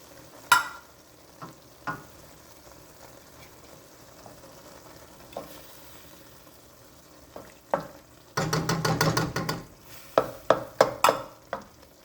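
Two cups of tomato sauce stirred into cooked meat in a pan for a cheesy goulash casserole, giving soft scattered spoon scrapes and taps, then a denser burst of stirring and clatter near the end.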